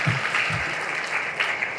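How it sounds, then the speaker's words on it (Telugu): A political rally crowd claps loudly in steady, dense applause that runs through the whole short stretch with no break. "గట్టిగా చప్పట్లు కొట్టండి ఒకసారి."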